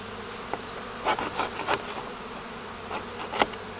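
Honeybees buzz inside a hive, a close, steady hum of many insects with a few brief louder bursts, heard alone.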